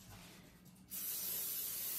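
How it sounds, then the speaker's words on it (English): After a quiet moment, cooking spray hisses steadily onto baking pans for zucchini bread, a close, sustained spray that starts abruptly and continues to the end. "So now we're gonna spray our pans"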